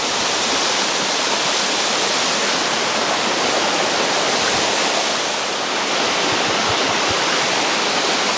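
A steady, loud roar of falling water fills the whole stretch, dense and unbroken with no other sounds standing out.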